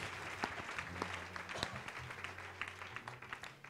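A church congregation at a fasting and prayer service in Togo applauds for Jesus Christ, with steady clapping and scattered crowd voices filling a large room at moderate volume.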